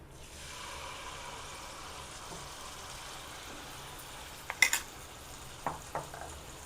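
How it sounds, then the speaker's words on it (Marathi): Malpua pancakes frying in a mix of hot oil and ghee give off a soft, steady sizzle, with a few sharp clinks of a utensil against the pan near the end. "चांगले खरपूस येईपर्यंत आपण तळून घेऊया।"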